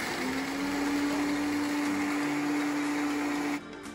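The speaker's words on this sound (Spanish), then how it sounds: "Y todo esto lo vamos a poner en la licuadora para que se muela perfectamente." Electric blender grinding peanuts with water and lemon pepper for a peanut dressing, a loud steady high whine with a constant motor hum that cuts off sharply near the end.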